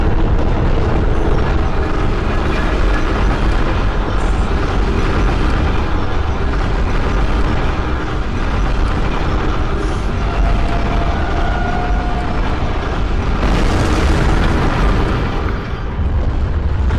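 Rumbling cannon blasts and explosions from the Bloodborne video game fill the clip with a loud, continuous low-heavy roar, dense and unbroken for the whole stretch with no talk.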